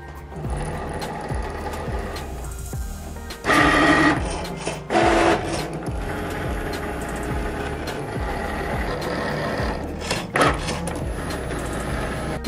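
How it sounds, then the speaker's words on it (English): A Cricut Maker 3 cutting machine runs steadily, its motor whirring in a rhythmic, repetitive pattern with a few louder bursts as the carriage moves, close and with no talking. "Here is the blade working in real time. The Cricut Maker 3 is the fastest machine out there."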